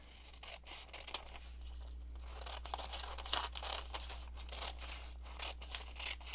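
Paper being cut and folded: a dictionary book page creased over and trimmed smaller with scissors, giving a run of close, quiet crisp snips and rustles with no talking.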